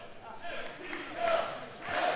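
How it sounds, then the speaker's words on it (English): Hometown crowd cheering loudly at a Grandel Theater wrestling match in St. Louis, a roaring mass of voices that swells in two waves, rising toward the end. "The hometown crowd getting loud here at the Grandel Theater"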